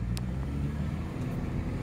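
Honda Civic Hybrid with a weak IMA battery on a short drive around the block, its low engine rumble steady and close throughout with no talk.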